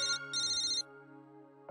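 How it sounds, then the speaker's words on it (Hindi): A mobile phone ringtone plays at home, a bright electronic melody with sustained tones that cuts off after under two seconds, loud and close, with no voices over it. "किसका फोन बज रहा है?"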